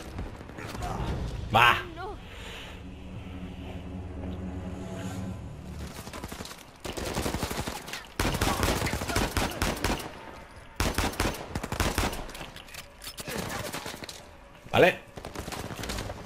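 Sniper gunfire in the Uncharted 4 video game, with a few sharp shots standing out over busy combat noise and game music while someone talks and shouts over the action.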